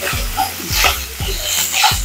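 Fresh coconut paste sizzles and crackles in a hot pan for a banana stem curry, with steady frying hiss broken by several stirring scrapes at regular intervals.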